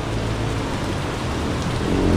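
Heavy rain pouring steadily during a typhoon, a dense continuous wash of noise with a low rumble underneath, loud and unbroken throughout.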